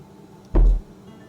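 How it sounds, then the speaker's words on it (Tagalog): A single loud knock for a radio drama, close and sharp, standing alone against a quiet background with no voices. "Isang malakas na katok ang narinig ko."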